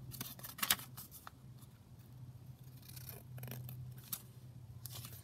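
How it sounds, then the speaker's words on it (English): Scissors snip around a paper offcut while finishing a ring-bound journal, taking several quiet, close cuts in an irregular rhythm with soft paper rustling between them and no talk. "So going to trim it from the back, but holding that lace kind of out of the way."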